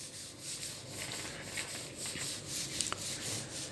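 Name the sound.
sanding with number 100 sandpaper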